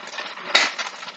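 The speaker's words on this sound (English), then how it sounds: "go ahead and just do a little stir" A spoon scrapes and clatters through skillet potatoes with ham and green onions in a pan, a short burst of close stirring noise with a couple of sharper knocks.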